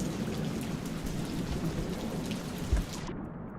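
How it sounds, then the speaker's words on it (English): Steady hissing rain with low rumbling thunder in the Rain World video game, a dense continuous downpour with a brief heavier thud near the end before the high hiss suddenly drops away. "I think it's gonna rain soon."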